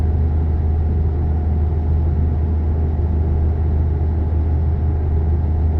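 A truck engine drones from inside the cab in the Euro Truck Simulator video game, a steady, loud, low-pitched rumble that holds an even pitch throughout.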